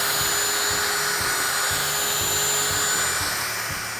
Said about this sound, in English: Next step is to sand everything smooth.